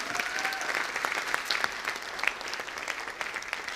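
An audience at a motivational business talk claps in steady, dense applause at moderate distance, with no voices over it.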